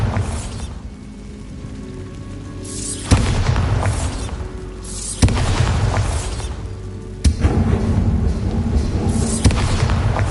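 Bombarda spell blasts in Hogwarts Legacy: four sharp, booming explosions spaced a couple of seconds apart, each with a hissing, crackling tail over a low rumble, loud and up close.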